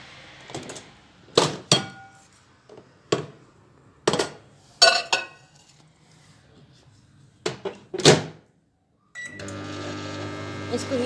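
A bowl of ghee is set up for a microwave, with scattered clinks, taps and thunks of the dish and door, then the oven starts and gives a steady, close electric hum with a faint rattle.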